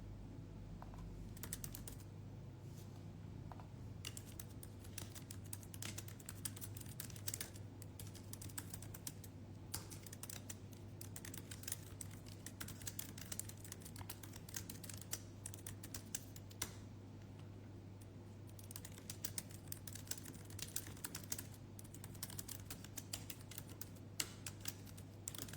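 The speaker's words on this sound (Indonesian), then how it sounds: "aku tadi sempat ngetik-ngetik bentar" Continuous computer keyboard typing, a fast, irregular patter of soft key clicks, runs steadily at close range over a constant low hum, with no talking.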